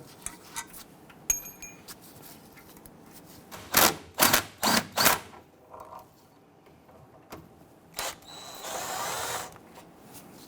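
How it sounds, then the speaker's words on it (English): A power tool or ratchet removes axle cover bolts on a 2006-2010 Hummer H3 rear axle in a garage, with a quick cluster of loud buzzing bursts, separate clicks and a final short whir, no talking. "we can now go ahead and remove the remaining bolts up top"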